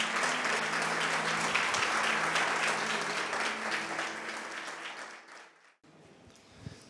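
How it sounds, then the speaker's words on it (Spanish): A church congregation applauds the Lord, sustained clapping filling the room for several seconds before tapering off, followed by quiet room sound and a faint knock. "Vamos a darle un aplauso al Señor."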